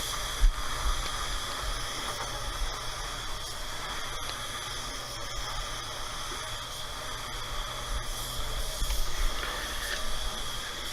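A spray gun lays clear coat onto a plastic bumper, giving a steady, continuous airy hiss held at an even level for the whole stretch, with no talking.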